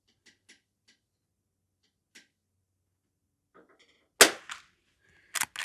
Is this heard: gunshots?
yes